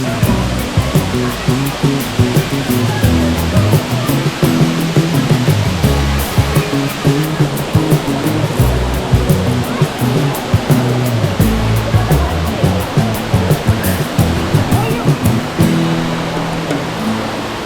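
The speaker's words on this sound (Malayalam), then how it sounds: "മുകളിൽ നിന്നും ചാടുന്ന വെള്ളം താഴേക്ക് ഒഴുകി പോകുന്നതിനാൽ" Waterfall at Anayadikuthu in Idukki, water plunging from above and flowing away below, a loud, steady broadband roar that stays constant and close throughout with no voices.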